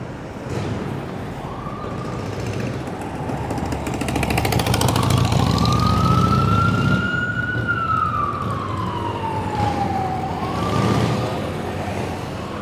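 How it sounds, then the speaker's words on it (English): Ambulance and police sirens wail along a busy Manhattan street at 6th Avenue and 22nd Street, one siren sweeping up and down loudly over constant traffic rumble, with others rising faintly near the start and end. "The ambulances and sirens in Manhattan are on a completely different level, to the point where they actually hurt my ears"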